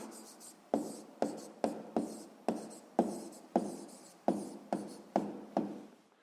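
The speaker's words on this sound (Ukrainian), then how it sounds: "Ну що ж, записуємо відповідь." A pen writing an answer on paper for a sixth-grade math exercise, about a dozen short scratchy strokes in an even rhythm, close and distinct with no voice over them.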